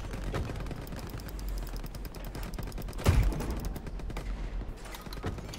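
Gunfire in the World War II shooter Hell Let Loose crackles as dense, rapid automatic bursts, with one louder heavy shot near the middle, played at a fairly low level with no talk.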